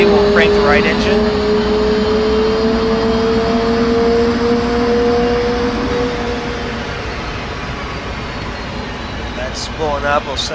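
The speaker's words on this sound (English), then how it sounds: "The APU is ready. We'll crank the right engine." The right jet engine of an F/A-18C cranking in the DCS World flight simulator, a loud sustained turbine whine that holds steady and then eases slightly, with brief speech at the start and end.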